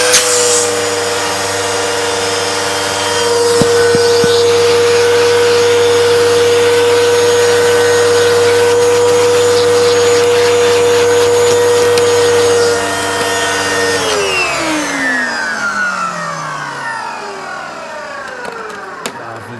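A Hitachi Powerhouse CV775D vacuum cleaner runs with a loud steady motor whine and hum, its pitch holding for about fourteen seconds before the motor switches off and spins down in a long falling tone.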